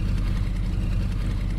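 An Isuzu NLR130 six-wheel farm truck in Farming Simulator 19 runs with a steady, loud, low engine drone that holds without pause, like a heavy diesel idling or cruising.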